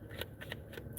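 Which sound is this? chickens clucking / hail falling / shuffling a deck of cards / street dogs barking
shuffling a deck of cards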